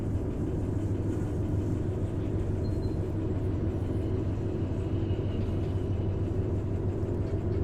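A train locomotive in the Derail Valley video game running in reverse, giving a steady, low, continuous rumble with a constant droning hum and faint rattling throughout.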